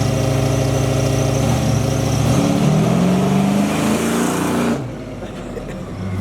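Joe Buddy Racing-built small block short bed truck revs hard and accelerates away, its loud engine note climbing in pitch for several seconds before dropping off abruptly into quieter background.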